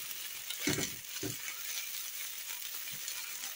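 Potato and carrot patties frying in a pan, a soft steady sizzle with a few brief louder scrapes and bursts as they are turned, no one talking.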